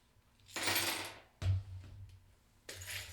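Small metal charms are shaken and tumbled together in a handful, giving a few quiet bursts of jingling clinks separated by short pauses.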